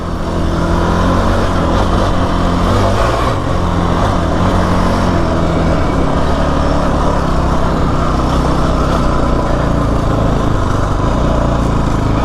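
A Kawasaki KFX 450R quad runs steadily on dirt, its engine a loud, continuous drone held close for the whole stretch with no pause or talk.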